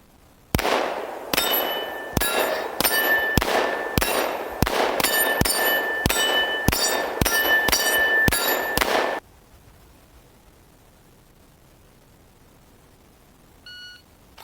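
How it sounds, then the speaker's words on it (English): Springfield XDm 10mm pistol with a 4.5-inch barrel fired at steel targets 10 yards away: about a dozen loud, evenly paced shots, each followed by a ringing metallic clang, then near silence and a faint beep. "we are out shooting the XDm 10mm today. We're at 10 yards, bringing some steel."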